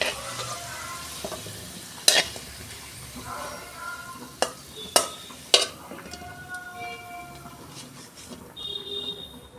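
Potatoes fry in hot oil with a steady soft sizzle, broken by a few sharp clicks of a spatula against the pan, close and moderate with no talk.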